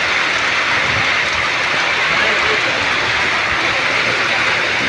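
Heavy monsoon rain roars over the village market in Sartanpar Bandar, Gujarat, in a dense, unbroken wash of noise, loud and close, with no pauses.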